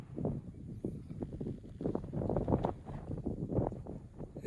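Gusty ocean breeze at a campground overlook in Tijuana River Valley Regional Park buffets the microphone in uneven low rumbling bursts, rising and falling throughout, with no speech over it.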